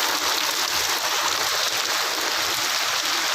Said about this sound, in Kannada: ಎಂಥ ಜೋರು ಮಳೆ ಗುರು